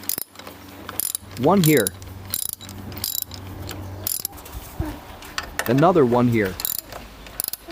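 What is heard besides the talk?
ratchet tightening timing belt cover screws on Fiat Punto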